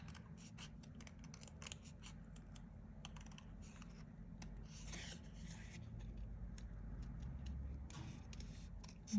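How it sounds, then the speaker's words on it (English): Scissors snip steadily around the curved edges of a Valentine art card, a fast run of small close cuts continuing under a low room hum, with no talking. "And you're just gonna go around and trim all the way around."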